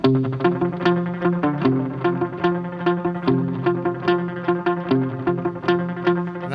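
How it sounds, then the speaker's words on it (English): Palm-muted electric guitar picking a steady rhythmic lick, each note followed by a quick slapback echo that fills the gaps; played alone, close and fairly loud. "Really lets the echo kind of slap back, and you can kind of hear the echo notes in between."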